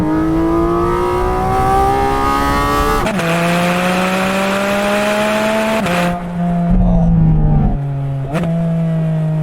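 Porsche Cayman GT4 RS flat-six with PDK gearbox, revving loud and close, pitch climbing steadily through a gear, then quick upshifts with short dips and renewed climbs, engine note alone throughout.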